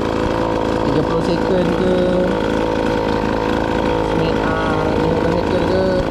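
A petrol leaf blower engine idles to warm up, giving a steady, loud mechanical drone with an even throb, while someone talks over it up close.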